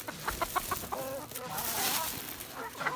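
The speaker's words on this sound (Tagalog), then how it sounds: "Gutom na gutom na po yung mga alaga kong manok." Several hungry chickens clucking close by on a rural Philippine farm in a busy, overlapping chorus, with short repeated calls and some louder squawks.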